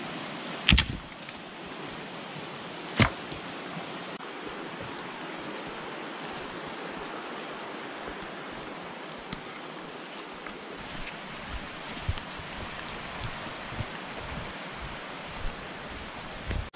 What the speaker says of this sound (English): Rain's picking up, guys